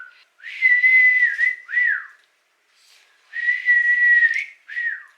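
Two sustained whistled phrases, each a long steady tone ending in a quick downward flick, separated by a short pause; close and clear.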